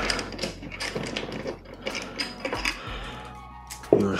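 A PCI racing seat mount is unbolted, with a dense run of close ratcheting and metallic tool clatter, a brief lull, then a sharp metal clink at the end.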